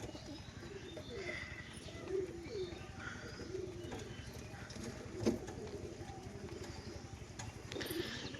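Rampuri pigeons, a matched male and female breeding pair, coo softly in a quiet indoor setting with low murmuring in the background and a few sharper bird calls rising above it.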